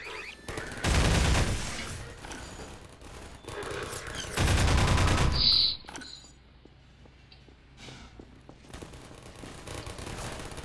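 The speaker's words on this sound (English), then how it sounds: "Alright, now I hear man hacks" Half-Life 2 combat with manhack drones and bursts of automatic gunfire, two loud sustained volleys separated by quieter clatter, then a whirring buzz and scattered ticking shots in the background.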